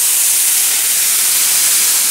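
Pot of water boiling with guajillo and New Mexico chiles, a steady, close hiss of rolling boil and steam that holds evenly for the whole stretch with no talking.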